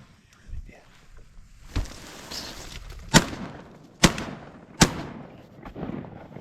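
Shotgun blasts ring out at ducks during a hunt in Idaho. Three sharp, loud reports come in quick succession among softer outdoor knocks and rustles.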